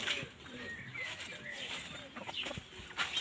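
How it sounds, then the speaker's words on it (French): A cuckoo-coloured hen clucks in short soft calls among other fowl in a garden enclosure, with light rustling and a voice speaking nearby. "La poule coucou qui est ici."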